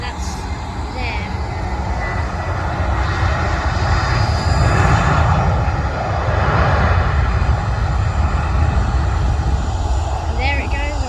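Jet airliner at London Stansted Airport, a loud sustained engine roar close by that swells mid-clip, with faint chirping sounds rising over it near the end.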